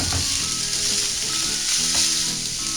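Chicken pieces, broken up small, sizzle and fry steadily in a pan with occasional stirring, a loud continuous crackle with no voices.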